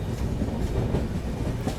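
Mandovi Express train running on rails between Rajapur Road and Kankavali, a loud close rumble with rhythmic clickety-clack of the wheels, steady throughout, with no talk.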